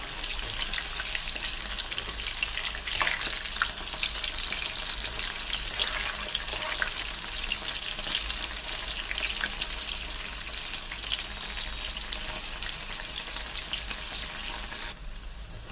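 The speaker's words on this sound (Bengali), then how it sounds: "সয়াবিনগুলো ভালোভাবে নেড়ে চেড়ে লাল লাল করে ভেজে নেবো" Steady, loud frying sizzle of soybean chunks in hot oil, a continuous crackling hiss with occasional stirring scrapes, no voices.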